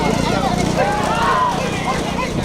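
Bulls pulling carts race in a rural bullock cart race, a dense rumble of hooves and wheels under loud, continuous commentary and shouting voices throughout.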